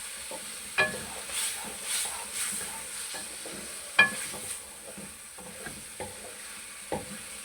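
A spoon scrapes and stirs taro root curry frying in a pan, with a steady low sizzle under repeated sharp metallic knocks against the pan roughly once a second, close and clear with no talking.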